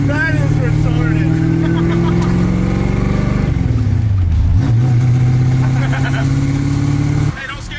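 A car engine revs hard under acceleration with rising and falling pitch, loud and close, an older vehicle with manual steering and brakes and a homemade shifter, with voices talking in the cabin over it.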